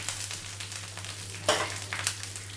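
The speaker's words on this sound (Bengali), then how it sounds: "কারি পাতাটা আমি আগে দিলাম কেন না, এটা ফাটবে আর কি" Curry leaves sizzling in hot oil, a continuous close frying hiss with scattered sharp crackles and a louder pop burst midway.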